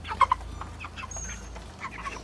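Meat chickens cluck close by, a few sharp, loud clucks early on followed by softer scattered murmurs and chirps from the flock.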